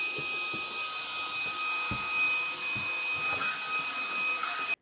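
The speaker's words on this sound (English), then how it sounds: "I'm gonna grab my vacuum and get that knocked out first." A vacuum cleaner runs steadily while cleaning the dusty cabinet space under a kitchen sink, a continuous loud broadband whine with a faint tonal hum and occasional low knocks as the nozzle bumps around, cutting off abruptly at the end.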